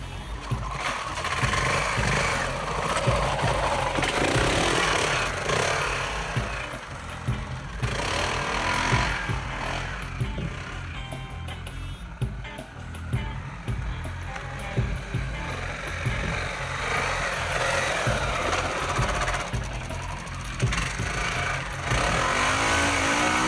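A dirt bike engine lugging at low revs on a dirt trail, rising and falling throttle bursts with a rough mid-pitched drone that stays loud and close the whole way, with no talk over it.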